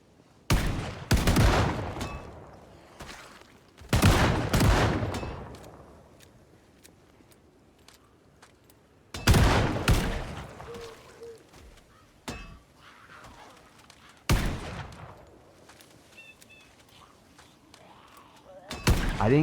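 Gunfire in the zombie survival game Project Zomboid rings out in several loud, separate volleys of rapid shots with metallic clanks, each burst fading into quieter gaps.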